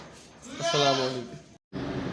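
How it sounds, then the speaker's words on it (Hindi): A goat bleats at a livestock market, one drawn-out wavering bleat rising loud and close, followed by a brief gap and then background noise. "ये मेरे पास बकरा है"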